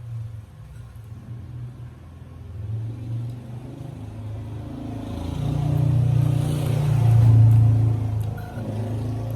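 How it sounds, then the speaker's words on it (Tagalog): A motorized tricycle rumbling past on a street, its low engine drone swelling louder toward the end as it draws near. "May ngayon tricycle."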